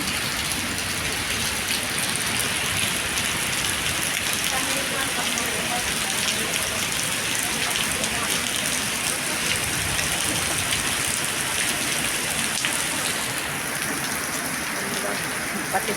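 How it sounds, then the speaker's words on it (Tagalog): Heavy rain pours steadily onto surfaces at a park, a dense, loud, unbroken hiss that holds without pause, with a person talking faintly beneath the downpour. "sobrang lakas ng ulan"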